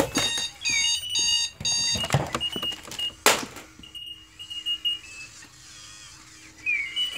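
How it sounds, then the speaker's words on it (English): A rolling alarm clock rings in rapid electronic beeping bursts, loud and close, then gives way to scattered clatter and softer chirping tones with no talk. "Why is there a rolling alarm clock in here?"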